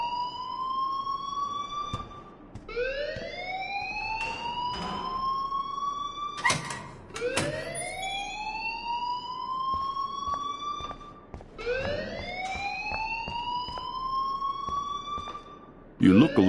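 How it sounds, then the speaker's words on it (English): A wailing electronic alarm in the Life is Strange video game, rising and falling in repeated siren-like sweeps, loud and continuous throughout. "please turn off that alarm since that's your job"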